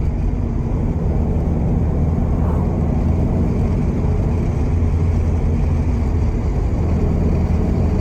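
A Porsche 356 engine runs steadily with a deep, continuous low rumble and hum, loud and close, with no voices over it.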